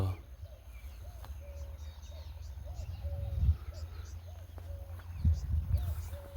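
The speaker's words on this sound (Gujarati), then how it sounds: "મસ્ત મજાની ચકલીઓનો અવાજ આવે" Sparrows chirp in a farm field in the morning, with small repeated calls that are faint and scattered over a low rumble and nearby talking.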